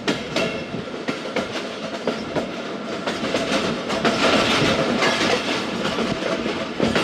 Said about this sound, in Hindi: ये देखें जनाब, ढलान भी है और ब्रिज भी है।